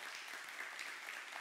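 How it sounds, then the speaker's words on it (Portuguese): A church congregation applauds, giving a soft, distant, even patter of many hands clapping, brief and steady with no voices over it. "Você pode aplaudir o Senhor?"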